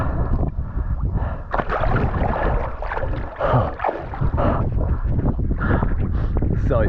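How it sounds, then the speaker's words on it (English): Strong wind buffets the microphone on a fishing boat at sea, roaring loudly and continuously with water sloshing beneath and some voices mixed in. "Windy day."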